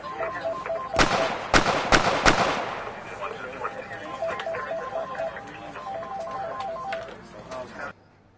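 Sharp gunshots from the PSVR cops-and-robbers shooter CrisisVRigade, a tight cluster of loud cracks early on, then quieter scattered shots over electronic game music and beeps.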